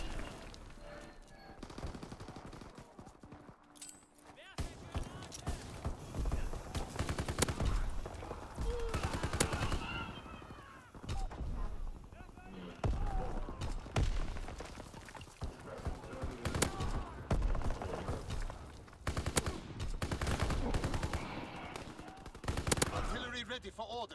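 Dense bursts of gunfire and automatic weapon fire rattle through a Call of Duty: WWII battle, with repeated loud volleys, explosions and chaotic combat noise across the whole stretch, occasional voices faintly mixed beneath.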